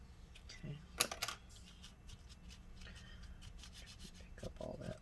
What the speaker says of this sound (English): I'm going to use the toothbrush and clean it out